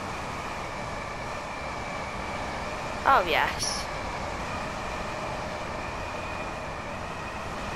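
Train in Train Sim World 4 picking up speed between Doncaster and Peterborough, a steady rumbling drone of running gear under a brief spoken exclamation, with a short sharp mic spike midway.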